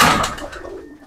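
A dove kept at a rural poultry farm gives one brief, close, soft coo that fades quickly, with no other sounds.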